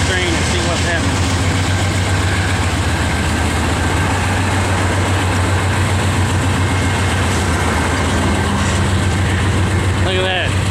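A CSX freight train carrying stacked containers rolls past a rail yard with a steady loud rumble and the clatter of wheels. A locomotive engine drones underneath, with faint squeals now and then.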